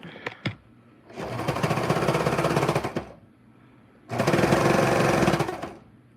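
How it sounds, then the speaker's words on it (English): A serger sewing machine stitches through fabric in two sustained bursts of about two and three seconds, loud and close, separated by a pause and preceded by a couple of brief clicks. "this is the angle of the serger"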